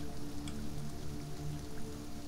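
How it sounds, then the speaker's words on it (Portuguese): Rain falls steadily in the survival video game Sheltered, a soft continuous hiss with scattered drips, faint and even, with a low tonal game hum beneath and no talking. "Aí, tá chovendo de novo."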